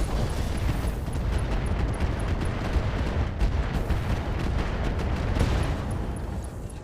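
A mech in the Roguetech video game firing its full weapon complement, a continuous dense barrage of blasts and shots, loud and sustained with little pause.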